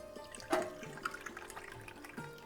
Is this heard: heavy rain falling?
no